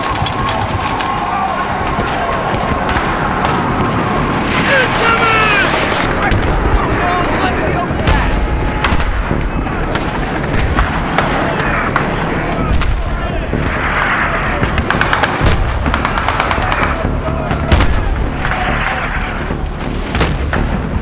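Mortar fire and explosions in a Battlefield 3 combat mission, a dense continuous barrage of booms and blasts mixed with gunfire, loud and sustained, with shouted voices in the chaos.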